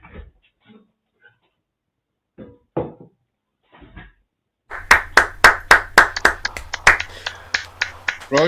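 Rhythmic hand clapping at a Scottish music session: a few scattered taps and quiet gaps, then a steady run of sharp, close claps.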